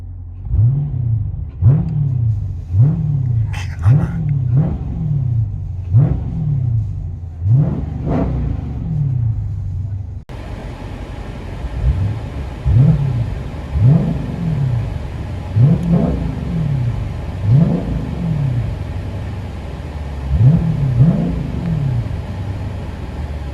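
A Dodge Challenger 6.4L HEMI Scat Pack fitted with Vibrant glass pack mufflers revs repeatedly in short, loud throttle blips, a deep V8 rumble rising and falling in a steady rhythm, heard outside and then from inside the car.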